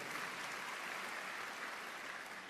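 A church congregation claps in a steady, dense wash of applause that is fairly quiet and distant, with no voices rising above it.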